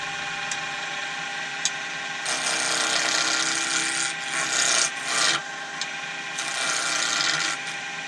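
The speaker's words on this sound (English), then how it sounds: "So nice light cuts, like so." A woodturning gouge takes light, steady cuts on a small spinning wooden acorn on the lathe, giving a continuous close scraping rasp that swells and fades in short bursts over a constant motor hum.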